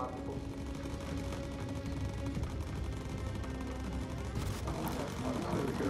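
Aircraft machine guns firing in the Bomber Crew video game, a dense, continuous rattling barrage that stays loud throughout and swells into a heavier burst near the end, with no pauses between shots.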